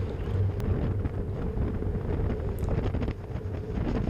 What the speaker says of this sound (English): Right now I'm straight into the wind